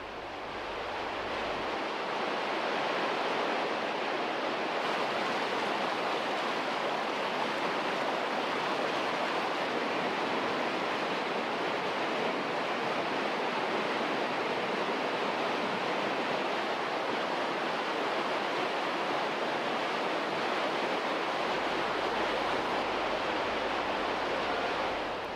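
An underground river flows through a cave, a loud, steady wash of rushing water that holds unbroken throughout, with no talking.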